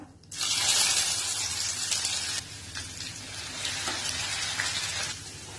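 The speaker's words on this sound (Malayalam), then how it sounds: "ഒരു 2 ടേബിൾ സ്പൂൺ ഇഞ്ചി നീളത്തിൽ അരിഞ്ഞെടുത്തിട്ടുണ്ട് ഞാൻ. അത് നമുക്ക് ഈ എണ്ണയിലേക്ക് ഇട്ട് കൊടുക്കാം." Long-cut ginger strips, about two tablespoons, hit hot oil for a garlic pickle and set off a bright, continuous sizzle and crackle that stays loud and close throughout, with no voices.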